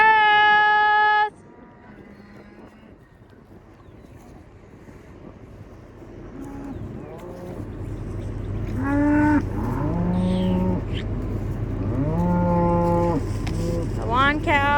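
Cattle mooing on a farm during a tornado warning, several long low calls from cows at varying distances, some close and loud, over a steady background rumble, with a brief horn-like tone at the start.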